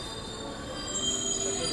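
A passenger train with a six-car rake at Cianjur station gives off a sustained high metallic wheel squeal over a low rumble, fairly close and steady, swelling slightly toward the end.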